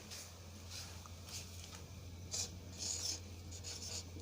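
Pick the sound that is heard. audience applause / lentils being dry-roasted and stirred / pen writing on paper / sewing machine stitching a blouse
pen writing on paper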